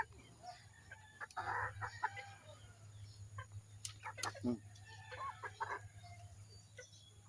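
Young pullet hens cluck and chatter restlessly in a farm coop, with soft scattered clucks over a steady low hum and faint background noise.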